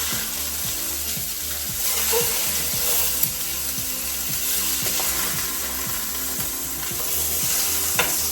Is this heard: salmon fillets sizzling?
yes